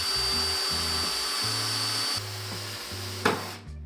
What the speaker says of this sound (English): we're gonna have to drill that out so we can actually take the original caster camber plate out